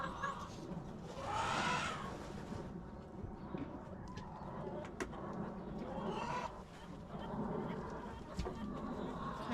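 Backyard chickens in a homestead coop on a winter morning, soft clucks and murmuring calls close by, faint and intermittent, with a person speaking quietly and occasional rattling of feed being shaken down in a bucket.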